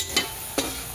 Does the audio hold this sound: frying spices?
yes